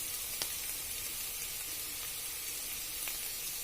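Ginger garlic paste frying in separated oil for a bottle gourd kofta curry makes a faint, steady hiss close by, with a few soft pops scattered through it.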